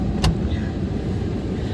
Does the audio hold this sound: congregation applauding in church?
no